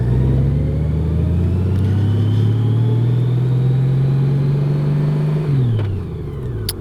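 A 2018 Honda Goldwing motorcycle being ridden near Ettalong Beach on the Central Coast, NSW, its engine droning loud and steady close to the mic with wind rush, then the pitch dropping as it eases off near the end.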